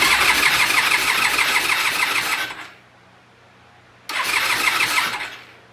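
Norton motorcycle engine cranks and whirs loudly for over two seconds, stops, then cranks again in a second burst, close and without talk.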